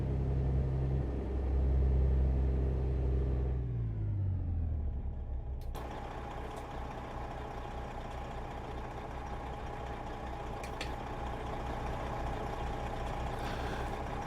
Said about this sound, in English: This truck must have a different engine in it because it sounds